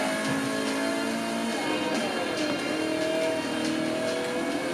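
Race car engine from Forza Motorsport 5 at the Nürburgring, a steady mid-pitched drone with rising and falling tones as the car eases through the final corners, continuous and fairly close throughout.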